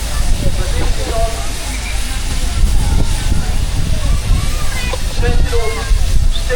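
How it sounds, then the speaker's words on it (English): A Sentinel steam wagon running on pneumatic tyres at a steam engine event at Tinkers Park, giving a loud, steady hiss of steam with a churning mechanical rumble underneath, close by and continuous throughout. "Sentinel steam wagon."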